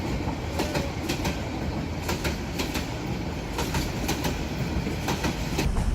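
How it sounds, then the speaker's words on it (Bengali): A train gets moving in a Bengali horror cartoon, with a steady rumble and regular clickety-clack of wheels over rail joints that carries on loud and close without any voices. "হর্ন বাজতে না বাজতেই ট্রেনটি চলতে শুরু করল"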